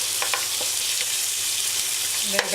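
Carrots sautéing in a pan, an even close sizzle holding steady with a few faint utensil taps and one louder clink near the end, and no speech.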